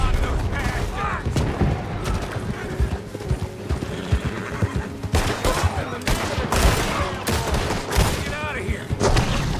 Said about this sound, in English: Shoot the devil out of those bastards.